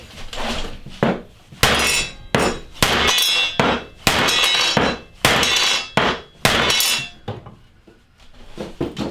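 A hammer strikes wooden racking to drive it into place, delivering a series of loud, sharp, close blows in an uneven rhythm with short gaps between them.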